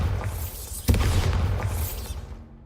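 A Bombarda spell blast in the Hogwarts Legacy game, a sudden loud boom that bursts in and rumbles on for a couple of seconds before fading, with no talking over it.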